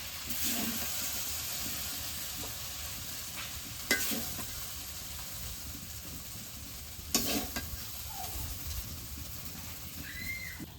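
Okra stir-fries in a pan with a soft, steady sizzle and hiss, broken by two sharp clanks of a spatula against the pan; no talking is heard.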